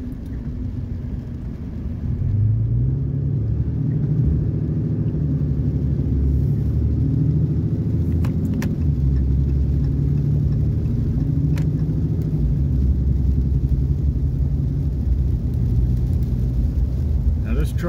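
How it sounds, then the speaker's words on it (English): A 2021 Ram 3500 HO heavy-duty pickup engine drones low and steady while driving under light throttle, shifting at low revs, a continuous near rumble with faint voices in the background. "Truck is getting a move on with very little throttle input."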